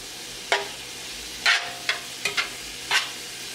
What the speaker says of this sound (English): you just want to sear this on all sides